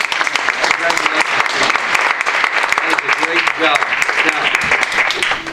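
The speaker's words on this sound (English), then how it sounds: "Let's give him a round of applause." A school board meeting audience applauds loudly for the district spelling bee champion, dense clapping throughout with a voice briefly talking over it.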